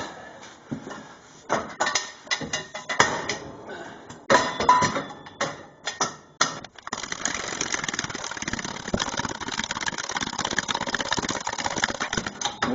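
A tire changer machine spins a tire with a steady, continuous mechanical whir after a stretch of scattered clanks and knocks, heard close and fairly loud with no talking over it.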